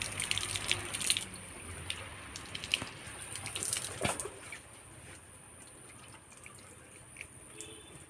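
Water splashes and trickles steadily into a fish pond, with a few sharper drips and splashes early on that settle into a quieter, continuous flow.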